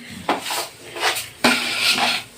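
A cooking pot of marinated rice is set down on a stove, giving a few metallic clanks and scrapes of cookware in quick succession, close and fairly loud.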